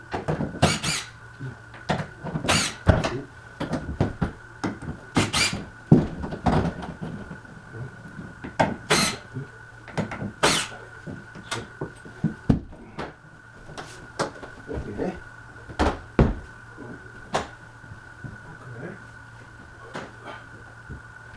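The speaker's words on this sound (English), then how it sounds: "we need to take this door out." A closet door is worked free and removed before a floor installation, giving repeated sharp squeaks, creaks and knocks in an irregular rhythm over a faint steady hum, with no talk.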